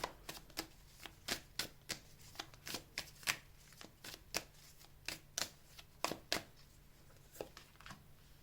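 Tarot cards shuffled by hand in a steady run of crisp riffling clicks and slaps, close and fairly quiet, with no talking.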